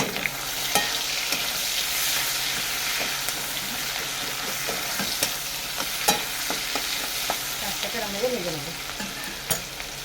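Chopped onions fry with panch phoron spices in a pan, a close, steady sizzle with intermittent sharp clicks and scrapes from stirring.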